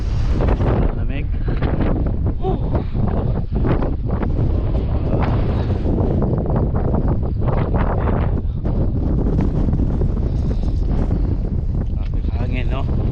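Cold wind gusts across a campsite at an ecopark, steady buffeting noise hitting the microphone throughout with voices talking over it.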